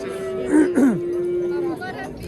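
A young heifer calf at a livestock market lets out a close, loud moo with two rising-and-falling bellowing pulses, then a sustained lower tone that fades.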